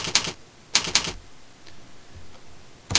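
Bursts of quick clicky keystrokes on a computer keyboard typing a first name in Notepad, three or four short clusters with pauses between, close and fairly quiet.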